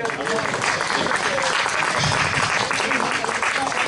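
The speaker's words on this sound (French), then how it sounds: "On peut l'applaudir, Elliot" Audience at a lecture applauding a child, steady dense clapping filling the whole stretch, close and loud, with a few voices faintly mixed in.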